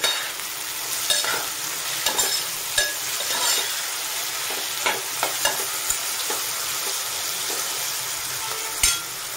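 Fresh green coriander sizzles in a hot spice tempering for a Maharashtrian black-eyed bean curry, a steady frying hiss broken by scattered scrapes and clinks of a stirring utensil against the pan, with no speech.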